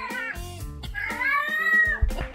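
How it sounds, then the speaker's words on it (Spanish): A cat lets out a series of drawn-out, wailing meows that rise and fall in pitch, close and clear, with a brief bump near the end. "¿Por qué llaman a Raúl los gatos?"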